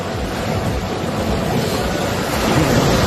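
Ocean waves wash in a steady, broad roar of surf, with wind buffeting the microphone, continuous and fairly close.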